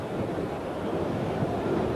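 Mistral wind blowing over a football stadium during a 1979/1980 Ligue 1 match between Marseille and Saint-Étienne, a continuous broad roar that fills the whole moment, with no distinct voices.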